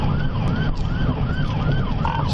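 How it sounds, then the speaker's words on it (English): A police car's wailing siren sweeps up and down in steady repeated cycles as the sergeant chases a fleeing minivan along a highway shoulder, loud and close over constant road and engine noise. "The sergeant began to follow the minivan and activated his lights and sirens"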